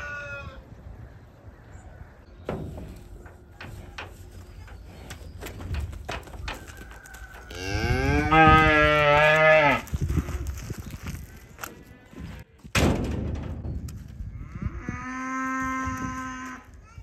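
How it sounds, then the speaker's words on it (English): Texas Longhorn cattle on a farm, with a black and white cow carrying 48-inch horns, giving a long, loud, close moo, then a second shorter moo, over outdoor background noise and a few bird coos. "that's his mom there with the 48 inch horns, black and white cow"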